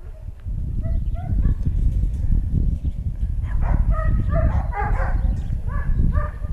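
An IGP2-certified sport dog at a training centre in Saigon barks in a series of short, close yips and bow-wows, interspersed with whimpers over a steady background rumble.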